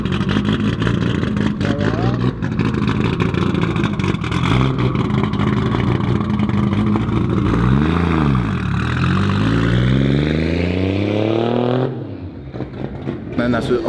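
A customised, daily-driven car in Martinique's car scene revs its engine loudly and close, the pitch climbing and dipping in sweeping surges before dropping away near the end, with voices talking over it.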